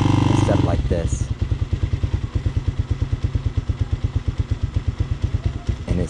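A cold Hawk 250cc motorcycle engine idles close by with a steady, rapid, slightly uneven putter that runs throughout, a brief rev-like swell at the start and a faint clatter under the pulses.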